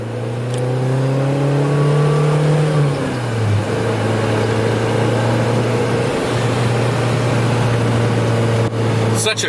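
An Acura Integra drives through a neighborhood, its engine humming steadily from inside the cabin, with a gear change early on and a continuous loud, even drone afterward.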